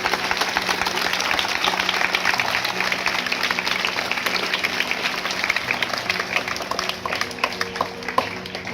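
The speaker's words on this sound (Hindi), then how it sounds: "जोश खरोश से जोरदार तालियां।" Enthusiastic applause at a school Independence Day celebration, a crowd of many hands clapping in a dense, steady patter that holds throughout, with a faint hum and occasional voices underneath.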